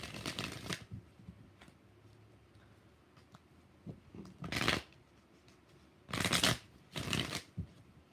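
Tarot cards being shuffled in several quick riffling bursts separated by pauses, close and clear with no talking.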